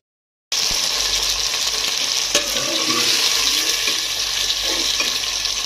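Food frying in oil in a home kitchen, a steady hiss and sizzle running throughout with faint clinks partway through, fairly close and loud with no talking.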